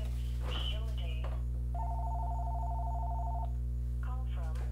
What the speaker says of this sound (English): Hey, I hear a phone ring.